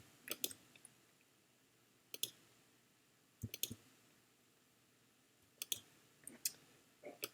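Computer mouse clicks during photo editing in layered image software come in short pairs and single taps scattered over several seconds, close and crisp against a quiet background.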